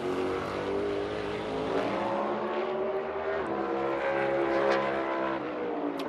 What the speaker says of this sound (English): Those cars are rolling with so much speed